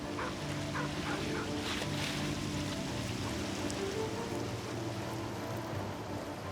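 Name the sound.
waves from boat wakes slapping Venice walls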